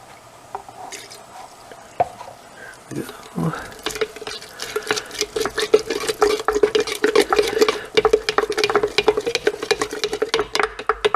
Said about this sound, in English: Get this all stirred up.